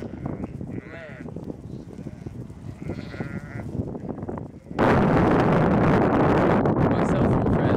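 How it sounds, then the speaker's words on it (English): Ewes and lambs bleat in a paddock, with several overlapping calls at close to middle distance under people talking, before strong wind buffeting swamps the microphone for the last few seconds. "there is a lot of ewes within this paddock"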